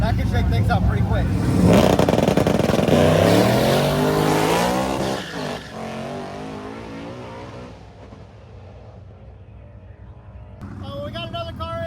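A barely street-legal car launches down a drag strip, its loud engine roaring with climbing pitch as it accelerates away, then fading into the distance before another engine rises at the end.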